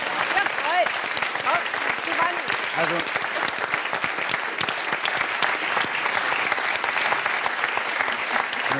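An audience claps warmly and steadily at a talk-show appearance, a dense, even round of applause. Someone speaks briefly over it.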